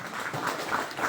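Audience applause at a Nepali community event at an ashram in Pokhara, a steady wash of clapping sustained throughout without pauses.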